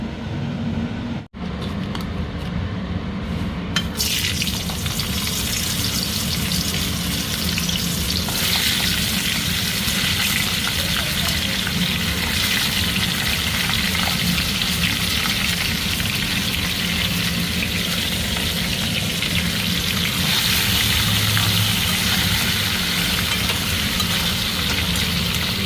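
Crab shells frying in a pan for a crab malai curry, a loud continuous sizzle with stirring scrapes, briefly quieter at the start before settling into a steady hiss.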